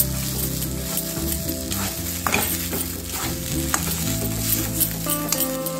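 A spatula stirs katla fish chop filling as it fries in a pan, making close scraping strokes over a continuous sizzle, with no voices.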